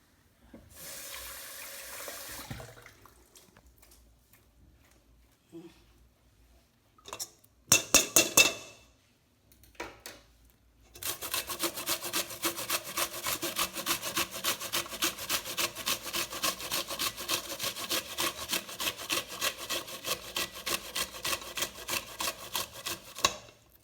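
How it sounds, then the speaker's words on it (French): An onion is rubbed against a grater while making Creole sauce chien, with a few scattered scrapes early on, then a long run of fast, even rasping strokes, close and fairly loud. "Donc, un oignon que tu vas râper."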